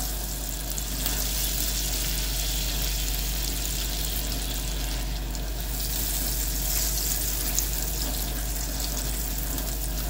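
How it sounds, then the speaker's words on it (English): Steady, loud sizzling of butter melting in a hot pan, a continuous bright crackling hiss that fills the whole clip with no talking. "Oh, look at that sizzle."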